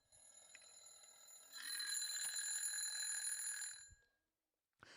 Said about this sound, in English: We can see that the alarm is still ringing, but there's a lot less sound.